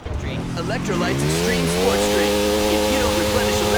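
Motorcycle tire skid in the video game GTA, a loud sustained screeching squeal with shifting pitch over engine noise, while someone talks.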